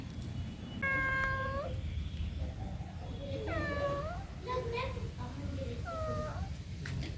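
A pet cat meows several times at close range in a home, the drawn-out calls repeating at irregular gaps over a steady low background hum.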